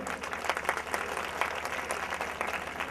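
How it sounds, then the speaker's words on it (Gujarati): Audience applause at a village honouring ceremony where guests are draped with shawls: a steady, dense patter of many hands clapping that holds at an even level for a few seconds. "તાળીના ગગડાટથી આપણે વધાવ્યા."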